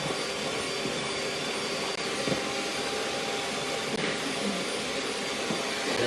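An electric hand mixer whirs steadily while whisking a baking mix in a bowl, a constant close motor drone with faint knocks and no speech over it.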